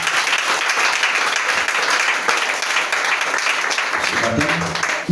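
A church congregation bursts into sustained, dense applause acclaiming Jesus at a French-language service, loud and steady throughout, with a voice briefly emerging near the end.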